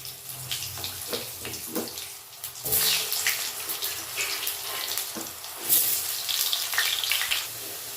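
Cut potatoes hit hot oil with tempering spices, giving a steady, hissing sizzle that swells in two louder bursts, close by and with no talk.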